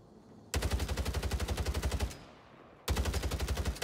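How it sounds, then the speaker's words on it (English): Rapid automatic gunfire in the video game Warzone, shooting through a wall: two loud sustained bursts of fast, even shots separated by a brief pause, with no voices over them. "Shooting through the wall."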